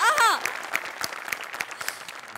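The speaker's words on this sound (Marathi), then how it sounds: "आणि निर्मिती ताईंसाठी या स्पेशल वाला टाळ्या." Studio audience applause on a Marathi TV comedy show, a steady burst of many hands clapping that follows a brief voice at the start and carries on at an even level.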